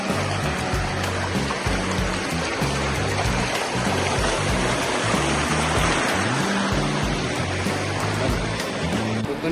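Sea surf on the Konkan coast at night, a steady, continuous roar of waves washing in close by, broadband and unbroken for the whole stretch with no talk over it.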